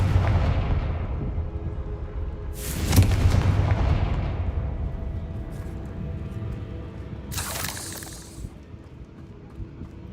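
The Confringo blasting spell in Hogwarts Legacy, a loud explosive boom, with two sharp bursts standing out over a steady rumbling battle bed that fills the whole stretch, and no voices.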